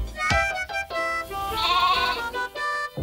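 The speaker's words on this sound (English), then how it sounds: "With a ba ba here and a ba ba there." A sheep bleats in a nursery rhyme about farm animals, giving a short wavering bleat over light music in a brief, fairly loud passage.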